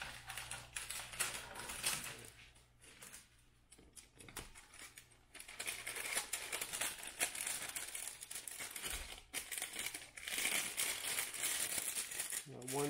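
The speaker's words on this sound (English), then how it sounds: "So I'm going to get whatever size bag I want, seal it on one side. I'm going to cut off the excess." A plastic bag is heat-sealed along one side and trimmed for shrink-wrapping stickers, giving a long stretch of crinkling plastic, clicks and snips, fairly close and steady.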